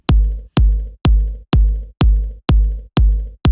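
Eight evenly spaced kick-drum hits from an unprocessed beat sample in Ableton Live, each with a sharp punchy attack and a boomy low tail, repeating steadily about twice a second, loud and dry with no voice.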